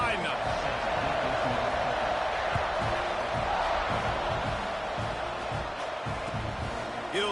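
A large football stadium crowd for Texas A&M roars steadily before kickoff, a dense, continuous wall of cheering voices that stays loud throughout.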